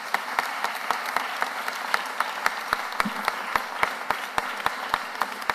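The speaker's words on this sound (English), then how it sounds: "A round of applause." An audience at a Philadelphia city government announcement applauds, a moderate steady patter of many hands, fairly even and continuous for several seconds with faint room tone beneath.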